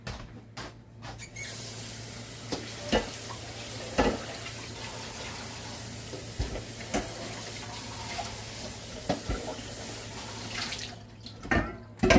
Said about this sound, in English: I am gonna drain the potatoes now